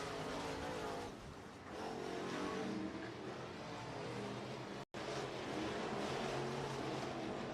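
Race cars roaring around an oval at Grays Harbor Raceway in Elma, Washington, on the final lap, a continuous engine drone heard from the grandstands with a brief dropout midway, fairly distant and without commentary.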